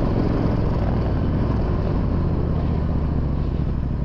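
Supercharged Triumph Bobber motorcycle engine running steadily, a loud, continuous low rumble with constant drone and no breaks, no talking over it.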